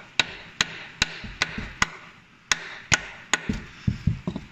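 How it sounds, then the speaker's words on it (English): A copper hammer raps a stuck crank pulley on a 2.0 TDI VW Golf GTD engine: a series of sharp, evenly spaced metallic taps, close and loud, followed by a few quicker, lighter knocks. "let's give it a quick tap with a copper hammer"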